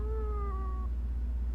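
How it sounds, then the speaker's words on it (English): A cat meows in the video game Fragile Dreams, a single drawn-out, wavering call that fades after under a second over a steady low hum from the game. "The final boss? It's the same cat from before."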